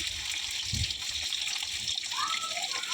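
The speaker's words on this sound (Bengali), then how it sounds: "তেলটা গরম হয়ে গেলে আমি পনিরগুলো দিয়ে দিচ্ছি।" Paneer pieces dropped into hot mustard oil in a pan set up a soft, steady frying hiss, with a dull thud as the pieces go in, fairly quiet and close.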